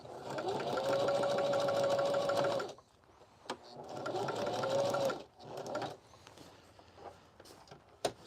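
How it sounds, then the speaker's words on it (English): Sewing machine running test stitches on ALICE pack military gear, two close bursts of fast whirring, needle chatter a few seconds each, separated by a pause, followed by quiet handling sounds. "I'm just checking my tension. See if the machine's functioning correctly."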